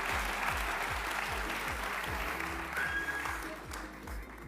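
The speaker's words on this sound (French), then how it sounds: "on peut les applaudir pendant ce temps" Audience clapping at the MT 180 Poitevine final while the finalists pose for a photo, a soft, fairly distant patter of hands over a steady low mechanical thrum, fading slightly near the end.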